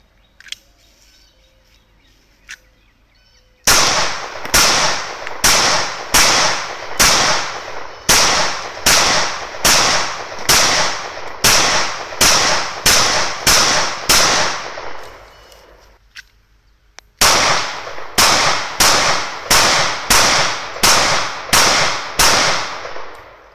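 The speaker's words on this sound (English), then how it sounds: "going to be shooting the new FNS-40, and this is from 15 yards. It's some milk jugs with some PPU target ammo" FN FNS-40 pistol fired from 15 yards at milk jugs with PPU target ammo, two long strings of sharp, loud shots in quick succession, separated by a pause, with no talking.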